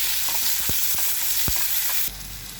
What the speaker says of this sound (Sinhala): දැන් අපි මේකට අපි කපාගත්ත තක්කාලි ටික එකතු කරනවා.